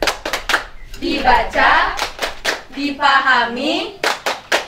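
Rhythmic hand clapping in short bursts from a children's scripture clapping chant, the claps falling in a steady beat between spoken and sung lines from a child and an adult.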